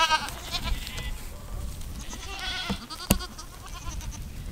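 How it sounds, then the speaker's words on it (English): Farm goats call out loudly for food, with several sharp bleats scattered over a few seconds against faint background noise. "they're kind of being loud and telling me, hey, bring me my food"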